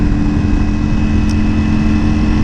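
Steady, loud roar of packed road traffic engines and road noise heard from a Ducati Panigale V4 motorcycle, continuous and close, with a constant hum underneath and no voices.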